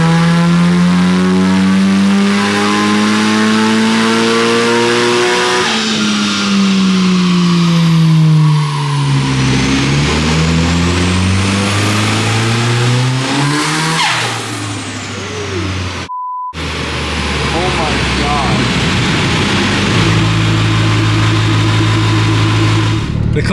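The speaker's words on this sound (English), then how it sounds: "Sam's got the car on the dyno. He's gonna go baseline, see where it's at." A Mitsubishi Evo 5 being tuned on a dyno, its engine revving loudly as the pitch climbs in long pulls, falls back, then climbs again before easing off.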